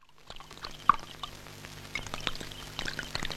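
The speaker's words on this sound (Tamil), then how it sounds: "இப்படி ஊத்துறது, இப்படி ஊத்தணும்." A drink being poured into a glass during a comedy scene, with a steady liquid pour and small clinks and drips heard close up.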